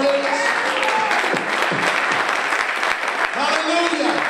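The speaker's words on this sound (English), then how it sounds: "Would you just give him a big hand clap of praise?" A church congregation claps in praise, a broad patter of many hands under voices and sustained tones from the room, staying fairly loud throughout.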